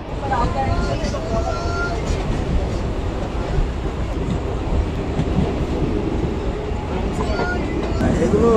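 Indian passenger train running through rural Bengal, a steady loud rumble and rattle of the carriages throughout, with faint voices mixed into the noise.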